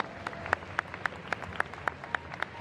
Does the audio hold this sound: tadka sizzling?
no